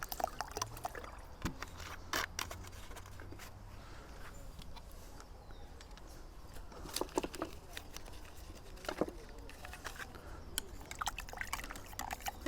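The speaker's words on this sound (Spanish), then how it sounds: "esto no es una maceración, esto es nada más que diluir el azufre en agua" Sulfur powder being stirred and diluted in water for garden pest control, heard as soft liquid sloshing with scattered drips and clinks, fairly faint and continuous.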